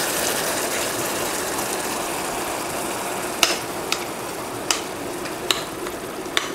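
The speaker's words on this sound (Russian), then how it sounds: "Хорошо перемешиваем и жарим минуты две" Carrots and onions fry with stewed canned meat in a pan, a steady broadband sizzle filling the clip, with a few sharp clicks and scrapes of stirring toward the end.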